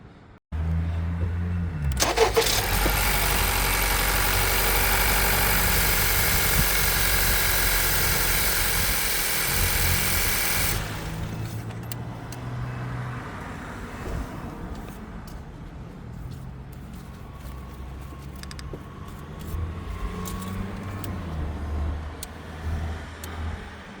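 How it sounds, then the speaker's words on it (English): A 2017-2022 Honda Accord engine starts and runs at a loud, steady fast idle for several seconds, then drops to a quieter, lower idle with small fluctuations and occasional clicks, heard close up without speech. "I'm gonna start the car and we're gonna check the level right again after I start the car for 10 seconds."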